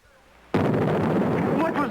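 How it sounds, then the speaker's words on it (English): A sudden loud explosion bursts out after a quiet moment, its deep boom rolling on and decaying with rumbling debris while voices join near the end. "Was that an explosion? It sure was."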